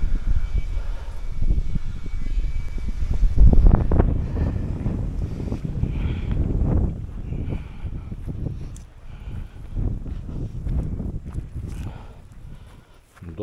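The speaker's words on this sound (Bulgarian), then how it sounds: "Доста е ветровито днеска" Strong wind gusts buffet the microphone beside the Yasenovo reservoir, a steady low rumble rising and falling throughout, with someone speaking over it at times.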